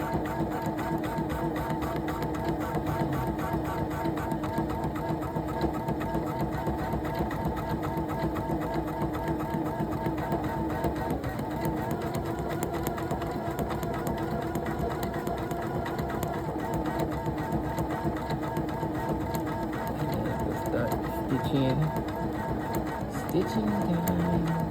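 An embroidery machine stitches a kids' owl design, running with a steady, fast mechanical whirring and rhythmic needle chatter throughout, close and continuous, with faint voices underneath.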